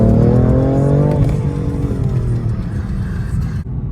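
A loud BMW F80 M3 S55 engine revs high and then winds down, its pitch falling as the rumble fades over a few seconds, heard close up.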